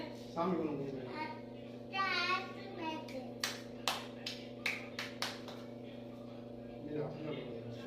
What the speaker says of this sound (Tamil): ஏய் பாப்பா கைத்தட்டு அக்காக்கு